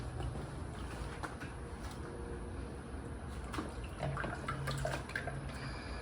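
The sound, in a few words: motor oil being poured into a 2015 Mazda CX-5 engine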